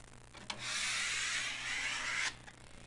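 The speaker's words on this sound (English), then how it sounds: "I have my blue painter's tape on here, and I'm just using an old store card, and I'm going to burnish the edges just lightly" An old store card rubs along the edges of blue painter's tape, making one close, continuous scraping swipe of about two seconds that starts and ends with a soft tap.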